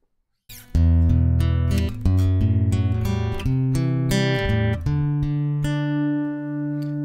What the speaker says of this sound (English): We'll now plug in our in-house acoustic, a Tanglewood TW55, which has a piezo pickup on board.